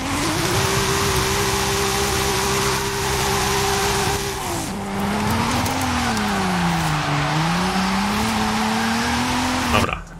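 A Lexus SC300 drifts in Forza Horizon 5, its engine droning steadily as the revs sag and recover through the slide, with a continuous loud tire squeal riding over it for about ten seconds and no talking.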